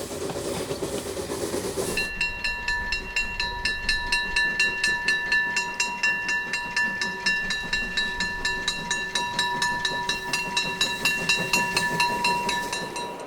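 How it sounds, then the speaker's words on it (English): A small model steam locomotive on a Märklin layout chuffs in quick, regular puffs after a brief hiss, with a whistling tone sustained above the rhythmic exhaust beats. "nothing beats the steam train experience, visually as well as acoustically"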